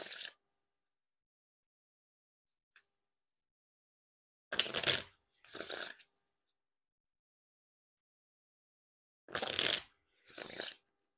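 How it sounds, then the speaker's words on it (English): A deck of Bicycle Trojan War playing cards gets a bridge shuffle, with short bursts of riffling cascade followed by soft bridging rustles, repeated twice with silence between. "And now time for that wiggle shuffle or bridge shuffle."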